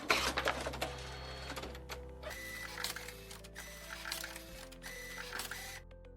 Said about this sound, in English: Several white test prints are coming out of the printer